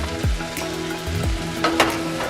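Onion and chopped leek frying in a pot for French onion soup, a steady close sizzle with a few soft clunks and stirring knocks over a constant hiss.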